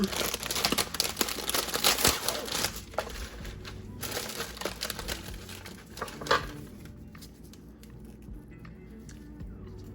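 Oreo cookie packs tear open with steady plastic crinkling and crunching, loud and close, continuing in bursts for the whole span with no talk.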